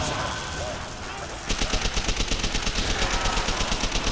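MP40 submachine gun firing in a video game: a rapid, steady burst of automatic shots begins partway through, loud and close, following a stretch of noisy game sound.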